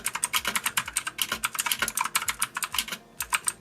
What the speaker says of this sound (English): Here's a little test of what the audio sounds like when you're typing.